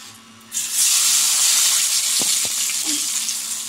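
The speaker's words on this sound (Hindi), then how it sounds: "ज़ीरा हमारा देखें फ्राई हो चुका है।" Cumin seeds and chillies hit a hot pan after a quiet moment, bursting into a loud, continuous sizzle that holds steady, with a couple of brief clicks partway through.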